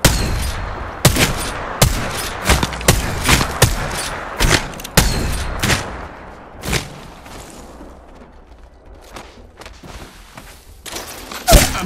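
Heavy gunfire, a rapid barrage of sharp shots and bursts crowding the first seven seconds, then thinning into scattered, more distant cracks over a lingering rumble, with a final loud shot at the end.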